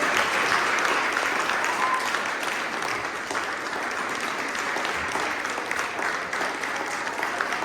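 A crowd claps steadily at a National Honor Society induction ceremony at an international school in Rome, the applause dense, even and sustained from start to finish.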